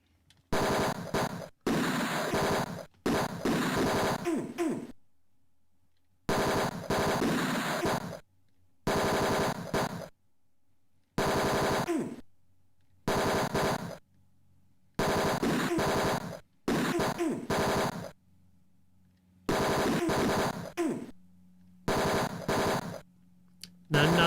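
Repeated bursts of rapid automatic gunfire in the retro PC game Tex Murphy: Mean Streets, loud stuttering volleys of a few seconds each, separated by brief silent pauses, no voices over them.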